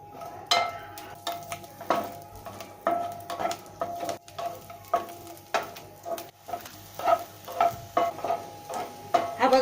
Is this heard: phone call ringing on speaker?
no